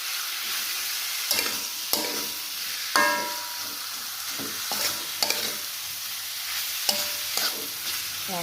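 Beef with spices is stirred in a sizzling pan, with a steady frying hiss broken by repeated sharp scrapes and clacks of the utensil at an irregular pace, close and fairly quiet, no voices.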